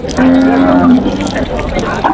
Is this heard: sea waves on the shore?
no